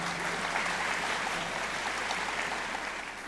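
Audience applause at a Pakistan Air Force stage show, welcoming a group captain onto the stage; dense, even clapping fills the whole stretch at steady volume, fading slightly at the end.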